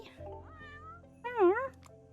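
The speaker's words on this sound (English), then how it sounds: "The ragged cat stares up at you imploringly" A ragged, starving cat meows in the video game Potions: A Curious Tale, giving two drawn-out, rising and falling mews, the second louder and more urgent, over a quiet game background.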